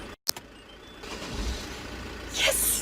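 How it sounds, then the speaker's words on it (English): A car's engine runs after being started with a spare key, a low steady rumble close by with a short clunk at the start and a rise in noise near the end. "Yes, it's running. My car's running."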